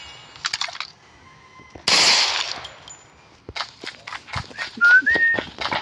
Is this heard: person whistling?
yes